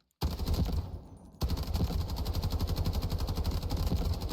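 Automatic gunfire at a firing range in the video game Delta Force, loud rapid bursts of shots in a fast steady rhythm with a short break between strings of fire.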